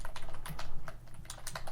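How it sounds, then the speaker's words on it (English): Rapid typing on a computer keyboard, with a dense run of close, crisp key clicks in an uneven rhythm and short pauses between bursts. "See what I'm typing there."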